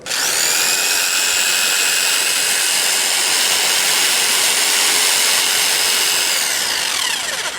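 An electric drill running freely in a room during a current measurement, a loud steady high-pitched motor whine held constant for several seconds, then winding down slightly at the end, with no talking over it.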